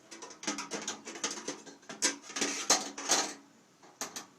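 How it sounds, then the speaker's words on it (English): A metal grate set down inside an ammo can stove, giving a run of close, sharp metallic clanks and scrapes of varied loudness as it is fitted into place. "you take this grate, put the grate inside,"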